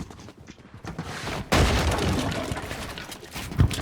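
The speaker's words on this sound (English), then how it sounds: "You had the audacity to shoot at them" Gunfire in a shooter video game, a dense burst of booming shots that begins abruptly and continues loud and close, with rapid cracks under a steady noisy bed and no speech.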